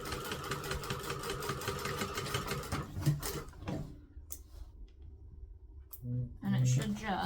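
A sewing machine stitches around a plush quokka, running in a fast steady whir for about three seconds before stopping, followed by quieter handling and a few clunks.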